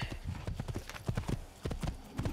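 In Assassin's Creed, rapid clip-clop of horse hooves trotting on hard ground, steady and close, with a faint voice in the background.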